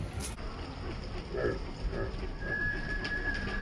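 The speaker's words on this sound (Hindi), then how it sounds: "व्यूअर्स, देखें कबूतर उधर आया है" Faint cooing from a Shahjahanpuri green pigeon sits low under steady outdoor background noise, with a thin whistle-like tone rising briefly near the end.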